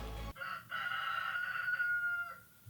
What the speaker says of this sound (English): That's my chickens.